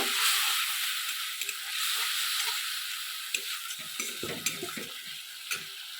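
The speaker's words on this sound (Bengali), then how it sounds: "সামান্য আমি জল দেবো, দিয়ে ভালো করে আমি মশলাটা ভেজে নেব" Spice paste fries with a splash of water in a pan, giving a bright hissing sizzle and steam with occasional spatula scrapes and taps, close and without talk.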